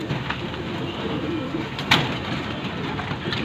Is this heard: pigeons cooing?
yes